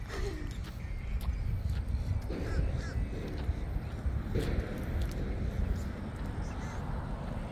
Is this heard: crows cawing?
yes